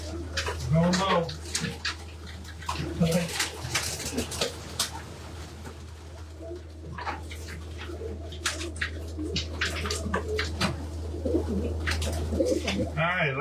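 Large flock of racing pigeons in a loft, cooing and fluttering with occasional wing flaps and scattered calls over a steady low hum, with intermittent human talk in the background.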